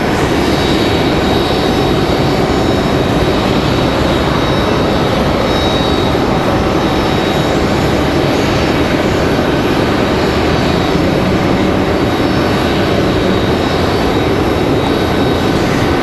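A 737-class jet airliner touching down on the runway at Raleigh-Durham airport, a loud, unbroken roar of engine and rushing air filling the whole stretch, steady throughout with no talking.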